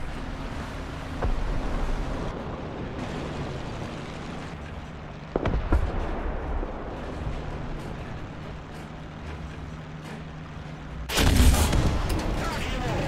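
A T-34-85 tank's D-5T cannon in War Thunder fires in a few heavy booming shots, the last one loudest and closest, over a steady engine rumble and wind.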